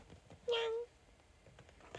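A single short meow imitated by a human voice, close and clear, over quiet background murmur.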